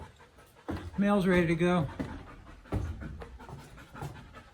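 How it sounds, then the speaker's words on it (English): A dog pants in quick rhythmic bursts inside a trail shelter, close and loud for about a second, while a person talks nearby before and after. "Somebody left their dog here."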